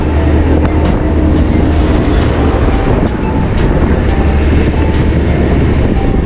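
A Fekon FKM motorcycle ridden on the road, its engine a steady loud drone mixed with heavy wind rush, continuous and close throughout with no pauses.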